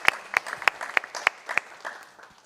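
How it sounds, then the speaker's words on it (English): A symposium audience applauds after a talk at the 2026 PIPES Symposium, a moderately sized crowd clapping with a few sharp, prominent nearby claps standing out in a regular rhythm before the applause thins and fades. "can we get a round of applause for"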